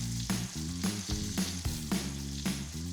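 Spice-rubbed rib eye steaks searing in a cast iron skillet, a loud, steady sizzle with a regular pulsing beat running beneath it.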